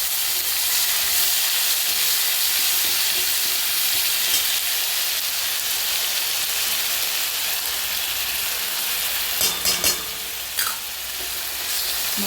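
Ginger, garlic and onion paste fries in a pan with a steady, loud sizzle that hisses on throughout, broken near the end by a few brief clatters of stirring.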